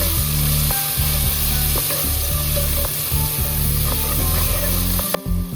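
Ginger garlic paste sizzles and fries steadily in hot oil, a dense, loud crackle with faint stirring scrapes throughout, no voices.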